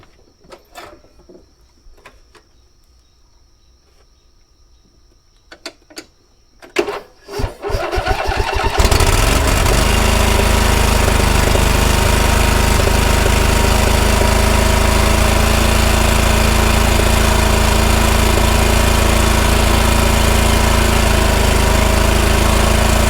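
A lawn mower with dull blades, fitted with a borrowed battery, cranks briefly with faint rattles and then starts and roars into a loud, steady run that continues alone.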